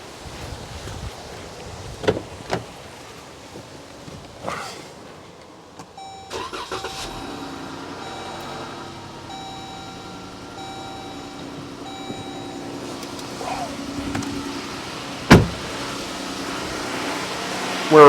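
A car's engine cranks and starts after an oil change, then settles into a steady idle with a faint tonal hum, scattered clicks and knocks around it, and a sharp clunk near the end.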